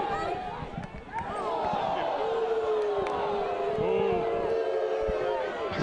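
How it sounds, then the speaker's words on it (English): A baseball crowd in the stands boos a call with a broad, sustained roar of voices that swells and holds for several seconds, loud and enveloping. "The crowd is booing Tony Walzak on the call."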